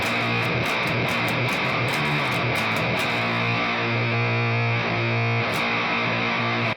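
Bass VI guitar through its SRC6 bridge pickup with no EQ, played with heavy distortion: sustained low chords and notes ringing loud and continuous, with sharp picking attacks early on and no talk.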